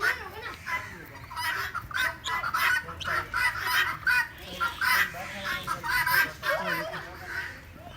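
Chickens cluck in an outdoor national park on a family picnic, with busy overlapping bird calls throughout and children and adults talking and playing nearby.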